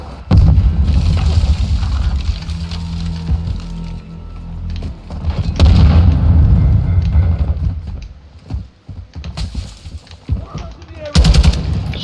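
Gunfire in a hardcore-mode first-person shooter on the El Asilo map: dense bursts of automatic fire and heavy booms, loud and close, with a grenade blast among them and players talking over the action.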